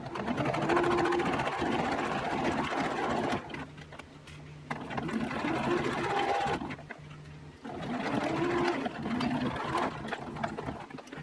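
Sewing machine running a 1 cm French seam, a steady close mechanical hum in three long runs separated by brief quieter gaps.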